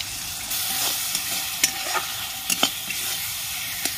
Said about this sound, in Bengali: জিরের গুঁড়ো 1 চামচ, ধনের গুঁড়ো, শুকনো লঙ্কার গুঁড়ো গরম জল দিয়ে ভিজিয়ে রেখেছিলাম, সেটা আমি দিয়ে দিচ্ছি। ভালো করে কষিয়ে নেব